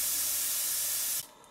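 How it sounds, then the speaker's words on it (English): A model steam engine's safety valve blows off steam at 50 psi in a loud, steady broadband hiss that cuts off abruptly near the end, leaving quiet. "I set the safety valve to blow off at 50 pounds per square inch."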